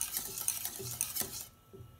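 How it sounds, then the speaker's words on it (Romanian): A spoon stirs thick vanilla custard boiling in a pot in steady scraping strokes, with faint bubbling underneath and the stirring stopping near the end. "o lăsăm să clocotească puțin, tot amestecând."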